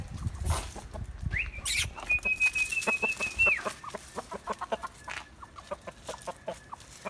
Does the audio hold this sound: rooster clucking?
yes